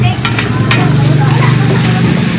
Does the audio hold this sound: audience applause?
no